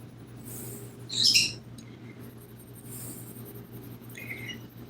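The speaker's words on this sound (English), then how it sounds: "They're over there doing kissy noises and stuff," Pet talking birds making kissy noises indoors, a few short high smacking chirps, one louder burst near the middle, heard alone over a low steady hum.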